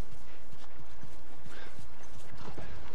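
Steady clip-clop of horse hooves trotting, with a brief whinny, in a busy The Last of Us game soundscape with a low background hum.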